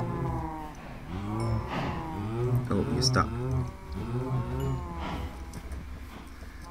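Several cows in the video game Minecraft moo in repeated drawn-out lowing calls, overlapping one another at moderate volume while someone speaks briefly.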